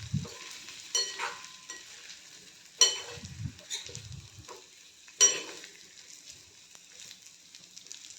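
Stuffed bitter gourd with masala is stirred in a sizzling pan, with a soft frying hiss throughout and several spatula scrapes and knocks against the pan, close and moderately loud.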